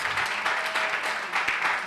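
Brief round of applause from the audience at a gender equality consultative forum, a dense burst of clapping throughout, fairly close and loud.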